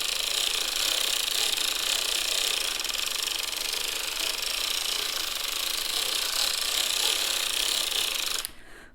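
A hand-cranked circular knitting machine turning steadily, a dense continuous ratcheting clatter close by that stops abruptly near the end, with no talk.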